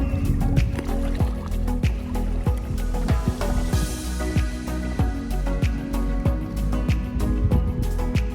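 A kayak paddles along the coast near Positano in November, with rhythmic paddle strokes, splashes and water drips close by, steady and fairly loud throughout.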